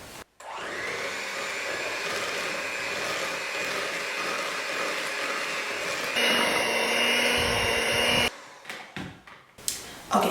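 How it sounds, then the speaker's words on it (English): An electric hand mixer whirs steadily while beating peanut butter cookie batter, then shifts pitch briefly before stopping, followed by a few knocks and clatters. "I'm gonna go ahead with my hand mixer and mix it in."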